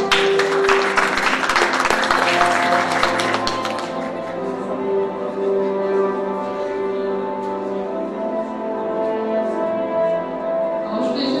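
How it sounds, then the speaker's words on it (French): Audience at an entrepreneurship award ceremony clapping for a student entrepreneur winner, dense loud applause that thins after a few seconds into scattered claps with a sustained tone underneath. "On l'applaudit encore."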